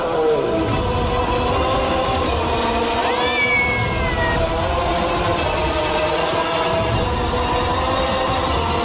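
A cat in a Tamil TV serial scene gives a single drawn-out meow midway, heard over a dense, loud bed of continuous music and background sound.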